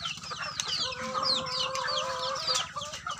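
Chickens cluck and peep continuously on a chicken farm, a dense chorus of small birds close by with overlapping chirps and clucks, no talking.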